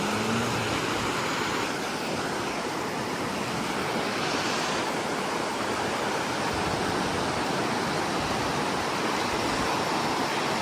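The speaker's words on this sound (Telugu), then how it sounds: "జలపాతం" Waterfall in Wales roaring continuously, a dense, loud rush of falling water that fills the scene without pause.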